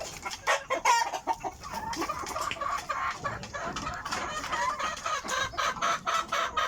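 Several backyard chickens cluck close by in quick, overlapping bursts while being fed, with a rooster crowing among them over a continuous, busy background.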